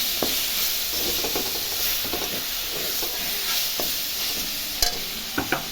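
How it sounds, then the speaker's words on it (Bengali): Vegetables with ginger being stirred in a hot pan for masoor-kalai dal, giving a steady moderate sizzle with intermittent soft scrapes and a few sharp clacks near the end, with no one talking. "সবজিটা একটু নাড়াচাড়া করে"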